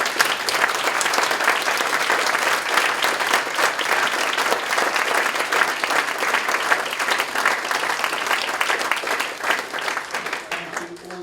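Sustained applause from an audience at a children's courage awards ceremony, dense steady clapping over about eleven seconds that thins slightly near the end, with faint voices mixed in.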